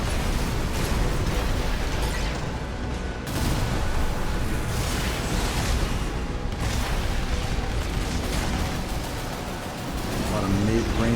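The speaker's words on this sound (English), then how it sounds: "you're all having a lovely time exploding" Repeated explosions and weapon blasts from mech combat in the Armored Core VI video game, loud rumbling booms and gunfire layered continuously with a voice talking over them.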